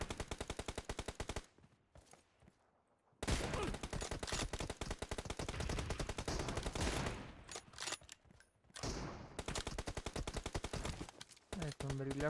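Rapid automatic gunfire in the video game PUBG Mobile, loud sustained bursts of shots, with a brief pause early on and another near the end.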